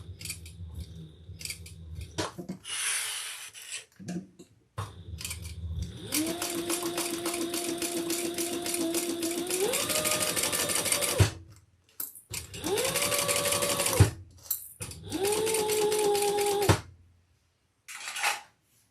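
Sewing machine stitching a handbag, running in several sustained bursts with steady whirring pitch that shifts between runs, separated by short pauses and small handling clicks, close and clear with no talk.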